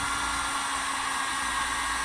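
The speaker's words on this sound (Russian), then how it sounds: "Включаем фен." An industrial heat gun set to about 370 degrees blows with a steady, loud rushing roar of air, unbroken and close throughout.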